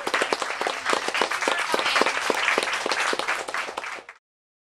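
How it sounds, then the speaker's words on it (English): An audience at a book event applauds an author, a lively round of many hands clapping together at close range that holds steady for about four seconds and then stops abruptly. "let's give her another very big round of applause"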